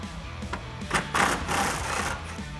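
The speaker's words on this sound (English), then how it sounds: "grab a 10mm socket and get that off" A socket wrench turns out a 10mm bolt on a 2016-2018 Chevrolet Silverado 1500 headlight, giving steady whirring, ratcheting mechanical noise with a few louder bursts, close and continuous.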